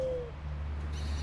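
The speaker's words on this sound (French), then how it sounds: "on va envoyer le hibou" A single owl hoot from the video game Far Cry Primal, a short falling tone at the very start over a steady low hum of game ambience, with no talking.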